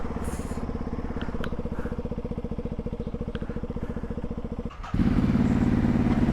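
Close, loud single-cylinder thump of a Ducati Hypermotard 698 Mono idling in an even pulsing beat, then revving up to a higher, harsher drone near the end.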